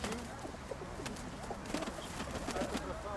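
Pigeons cooing softly at a bird market in Zhytomyr, low rolling coos repeating under faint background noise, fairly quiet and at a modest distance.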